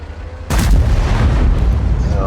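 A T-103 tank destroyer's main gun fires once in a video game on the Normandy map, a sudden heavy boom that rolls into a long, loud rumbling tail.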